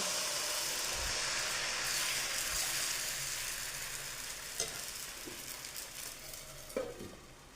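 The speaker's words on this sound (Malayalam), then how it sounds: "നമ്മൾ സവാള അധികം അങ്ങ് വഴണ്ട് പോകരുത്" Onions sizzle and fry in a pan for upma, a steady broadband hiss with occasional clinks and scrapes of stirring toward the end, close and moderately loud with no voices.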